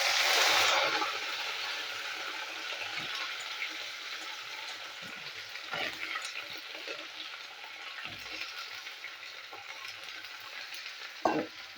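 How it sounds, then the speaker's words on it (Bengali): Okra frying in mustard oil in a wok gives a steady, close, crackling sizzle, with scattered stirring scrapes and a sharp utensil knock near the end. "তো ঢ্যাঁড়সগুলো আমি ভালো করে ভেজে নেবো।"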